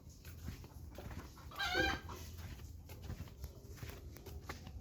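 Chickens being carried give a faint, brief burst of squawking clucks near the middle, over quiet outdoor background with soft shuffling.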